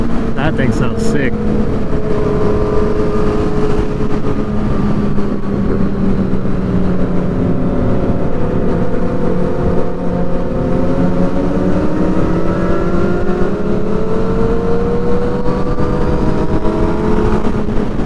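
Motorcycle engines on a group ride in New York, a 2014 Yamaha FZ-09 and a Suzuki GSX-R750, droning steadily with rising and falling revs under rushing wind, a rider talking over it.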